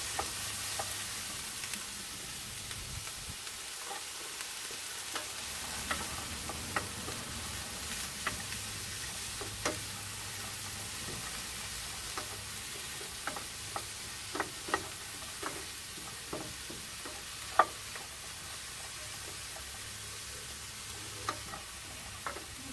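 Vegetables sweat and sizzle gently in a small frying pan for a plant-based quinoa dish, a soft steady crackle with scattered ticks and light stirring scrapes, no talking.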